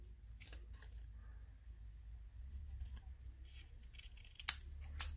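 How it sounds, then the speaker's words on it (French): Two crisp scissor snips slicing a piece of cardstock in half during card making, sharp and close near the end of a quiet stretch with faint handling noise. "on va couper celle-ci en deux"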